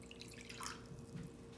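Water poured into a container for a homemade lava lamp, a short soft splash and trickle, close and fairly quiet.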